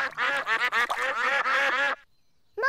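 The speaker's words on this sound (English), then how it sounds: "Peppa and George love feeding bread to ducks." Cartoon ducks at a pond quack in a rapid, loud, close chorus of overlapping calls while being fed bread, then fall silent before one more quack.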